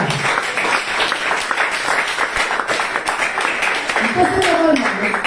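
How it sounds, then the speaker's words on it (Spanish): Church congregation clapping steadily throughout, with shouts and voices mixed in and a sung or spoken voice rising near the end. "Denle aplauso al Señor."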